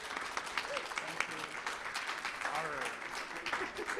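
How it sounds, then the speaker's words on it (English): Audience applause for artists after a panel talk at a live museum event, steady crowd clapping throughout with faint voices mixed in. "please give them a warm applause"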